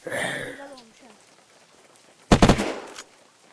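A short burst of rapid gunfire in a raiding video game, aimed at the player, cracks out loudly once near the end after a stretch of quieter game sound.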